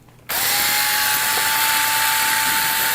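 A power driver unscrews screws from a CEN HL150 RC truck, whirring on abruptly in a loud, steady, close-up high-pitched whine that holds to the end, with no talk.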